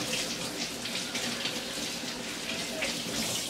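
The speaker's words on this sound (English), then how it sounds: "And right away I rinse out my shells." Tap water runs in a continuous close gush as eggshells are rinsed under it, with no talking.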